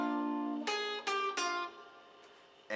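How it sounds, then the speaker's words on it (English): Electric guitar playing sweep-picked arpeggios with the notes left ringing into each other, three bright strummed sweeps in a row that sustain and slowly decay, followed by a soft fade and a final fresh attack at the end. "If I let the notes ring out, it would sound like this."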